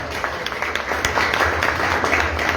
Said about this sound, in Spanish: Un aplauso para la Galería